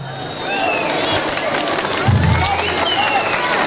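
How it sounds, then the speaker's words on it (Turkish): Concert crowd applauding and cheering at a show, a steady wash of clapping and crowd noise throughout, with a low hum underneath. "Bu kadar az alkışla ama bilmiyorum ne olur."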